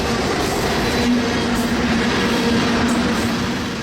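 A loaded CSX K427 ethanol freight train rolls past close by, a loud, steady rumble of wheels on rail with a faint metallic squeal riding on top.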